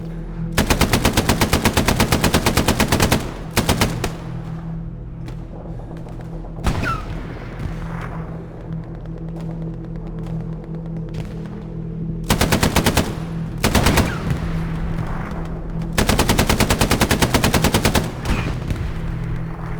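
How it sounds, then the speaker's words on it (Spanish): Gunfire and explosions in a World War II battle in the video game Hell Let Loose: long bursts of loud rapid machine-gun fire repeat between shorter gaps, with booms and scattered shots underneath. "Todo lo que se escucha son balas rozándote, explosiones lejanas y cercanas"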